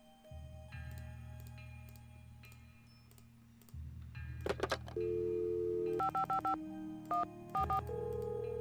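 A telephone number is dialed in the Nancy Drew game Secret of the Scarlet Hand, with a series of distinct touch-tone beeps of varying pitch over a low hum, some keys pressed in quick succession.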